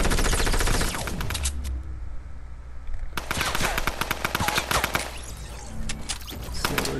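Intense gunfire in the video game Fortnite, rapid automatic bursts and heavy launcher blasts cracking in quick succession, loud and close, with a brief lull before the shooting resumes.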